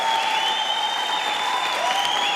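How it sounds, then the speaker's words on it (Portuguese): Steady applause from an audience at a formal honorary citizenship ceremony in Paraná, a sustained even wash of clapping with no gaps, with a faint tonal hum running beneath it. "Quer aplaudir mais uma vez?"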